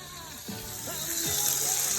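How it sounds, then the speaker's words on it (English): Vegetables frying hard in a fry pan at an outback Queensland country town cookout, giving a steady close sizzle with faint watery crackle throughout. "There's the veggies. They're cooking their backside off."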